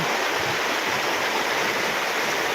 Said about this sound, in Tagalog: grabe pong baha dito ngayon dahil uh, magdamag po ang ulan at saka hangin